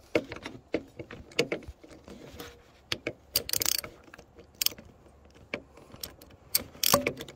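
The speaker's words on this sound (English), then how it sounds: "Ratchet it back over and you can you can loosen it up, see?" Ratchet wrench clicking as it loosens the oil filter on a Case CX37C mini excavator during first maintenance, heard in several short bursts of close, sharp clicks with pauses between.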